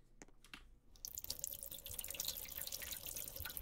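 A tap in a Roblox game is turned on and water runs into a sink with a steady splashing hiss after a few soft clicks, close and continuous to the end.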